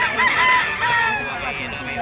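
A green-legged bull stag rooster crows loudly and close, one strained call lasting about two seconds with no voices over it.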